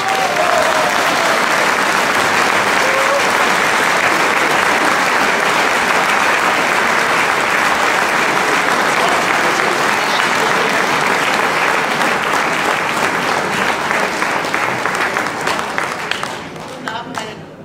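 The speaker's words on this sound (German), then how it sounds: "mit einem ganz großen Applaus und tausend Dank" A lecture audience gives a long, loud, even wave of applause welcoming a speaker, which holds steady for many seconds before thinning out at the end.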